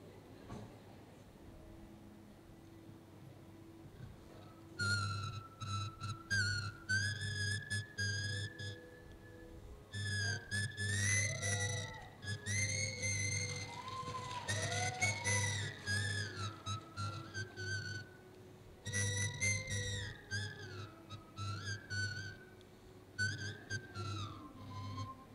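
A man whistles a film-song melody in bright sustained phrases with short pauses, alone over a low steady hum.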